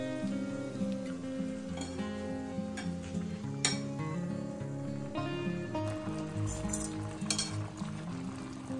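Homemade gravy for stuffed brinjal cooks over a high gas flame in a home kitchen, sizzling and bubbling continuously while a utensil stirs and clinks against the pan now and then, close and moderately loud.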